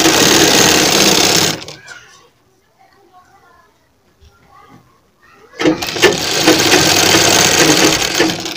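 A sewing machine stitches a frill onto a sleeve in two loud, close bursts of rapid whirring. Someone speaks Hindi in the quiet gap between them.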